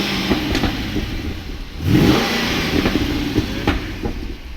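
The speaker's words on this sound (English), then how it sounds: "it's idling there. It's going to sound completely different. I'll give it a rev" A car engine idles with a low rumble, then briefly revs up around the middle before settling back to a steady idle.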